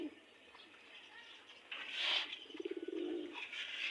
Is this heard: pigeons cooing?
yes